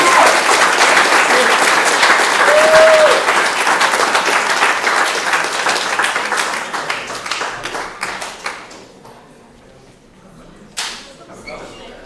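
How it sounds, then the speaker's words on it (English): Loud, full audience applause at a showcase event, steady at first and then gradually thinning into scattered claps before a final brief burst. "Round of applause."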